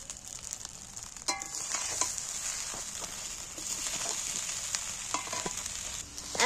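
Fried vegetables being stirred into fried rice in a hot pan, a steady loud sizzle broken by scraping and clanking spatula strokes close by, with no talking.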